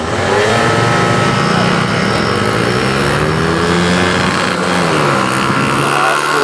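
Kids' class scooter mini-bikes revving together at a race start at a Tokushima minibike race on a hot track, small engines buzzing loud and continuous with shifting pitch as they pull away, crowd of machines close by.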